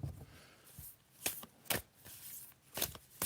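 Tarot cards are shuffled in a few quick riffling bursts separated by short pauses, close and fairly quiet, with no talk.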